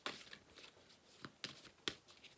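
A deck of cards being shuffled by hand, heard as soft, quiet riffling bursts with a few sharper snaps spaced unevenly, and no talking.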